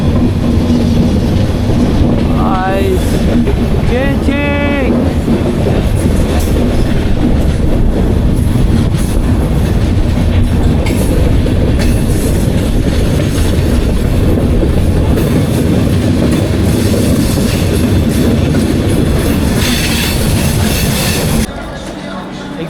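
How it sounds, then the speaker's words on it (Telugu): A passenger train rolls past at close range, its loud continuous rumble and clattering wheels filling the whole stretch, with brief squeals early on, before the noise drops away near the end. "ట్రైన్ కనపడుతుంది చూడండి వెనకాల."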